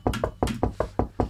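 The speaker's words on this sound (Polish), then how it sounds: "można zapukać" Knocking on a door in a video game: a quick run of about six sharp, close, evenly spaced raps, heard clearly on their own.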